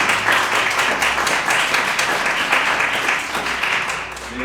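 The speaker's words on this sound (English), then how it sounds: "They do deserve this enthusiastic applause" Dense, steady applause from an audience at a lecture event, many hands clapping loudly and evenly without pause throughout.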